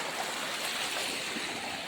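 A village river flows in a steady, broad rushing wash, with no pauses and no voices.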